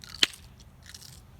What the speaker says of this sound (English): That's why they call it the sugar snap pea, because it's crunchy and snaps when you eat it.